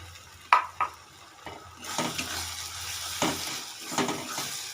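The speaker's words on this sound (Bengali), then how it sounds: "8-10 কোয়া রসুন আর একটা মাঝারি সাইজের টমেটো আমি এখানে পেস্ট করে নিয়েছি, সেটা দিয়ে ভালো করে নাড়িয়ে নেব।" Garlic and tomato paste stirred in a hot frying pan, with soft sizzling and a few distinct scrapes and clinks of a spoon against the pan, then steadier stirring and frying noise.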